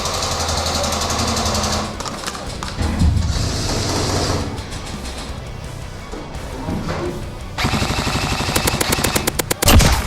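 An airsoft M4 rifle with a binary trigger fires a magazine in rapid mechanical bursts, loud and close, with a fast rattling string of shots near the end amid outdoor field noise.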